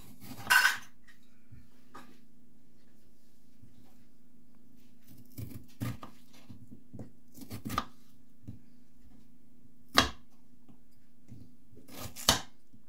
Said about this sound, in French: Je commence par couper la pomme de terre en morceaux